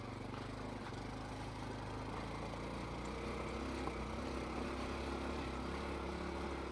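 A Honda Trail 125 motorcycle engine drones steadily in first gear while climbing a rocky hill, a constant mid-pitched hum with little variation and no talk.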